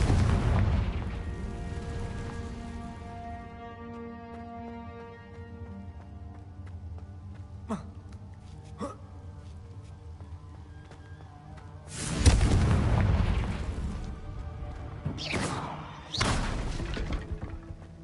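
Booming fire-spell blasts from Confringo in the video game Hogwarts Legacy: a heavy low rumble fading out, then two sharp cracks, followed by a louder burst around twelve seconds and more explosive hits near the end, with no talk.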